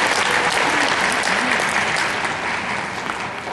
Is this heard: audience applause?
yes